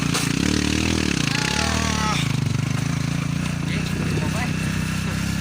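A motorcycle engine chugs and rattles steadily over a broken, damaged road, with someone talking loudly over the drone and clatter.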